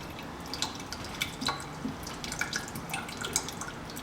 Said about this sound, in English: there's still a bit of water coming out. I think it's the hot water probably.